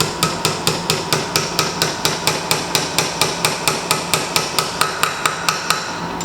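Steady hammer taps drive a release bearing carrier into place on a Triumph Spitfire gearbox, about four light, evenly spaced metallic knocks per second repeating close up over a continuous background hiss.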